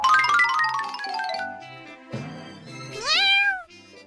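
A cartoon kitten meows in drawn-out, sliding cries, one long plaintive mew followed by a pause and then a sharp rising-falling call, loud and close with no talking.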